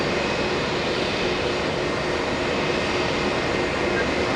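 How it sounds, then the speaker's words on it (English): A Delta Airbus A321 jet departing JFK, a steady broadband engine roar filling the clip at moderate distance. "That's an A321 giving us a right bank run after departure."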